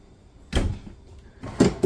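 A cabinet drawer in an RV slides open with a short rumbling scrape, followed by a second soft sliding bump a moment later, close by.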